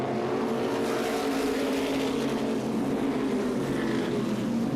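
SK Modified race cars at the Waterford Speedbowl produce a steady, dense engine roar that holds at a constant loudness, with no voices over it.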